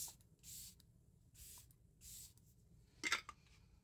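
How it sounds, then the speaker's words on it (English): Quiet room with a few short, soft spray bursts from a makeup setting spray mister, three evenly spaced puffs followed by a brief rustle or click. "For setting spray, I got the new LYS. So let me show you guys this. The mister's awesome."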